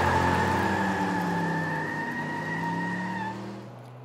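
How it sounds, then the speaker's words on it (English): Racing cars in the Cars video game chase minigame: a loud, sustained engine drone with steady whine tones that fades out near the end, with no talk. "In this minigame, Lightning needs to chase down the tuner cars while also driving on the opposite side of the road"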